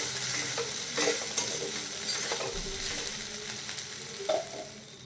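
Maggi noodles being stirred and cooked in a pan, with a steady low sizzle and scraping and clinking of the utensil against the pan heard close up throughout, no talking.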